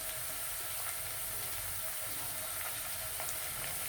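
Onions frying with salt in a pan for mutton curry give a steady, close hiss and crackle that runs without a break, with faint sharp pops scattered through it and no talk.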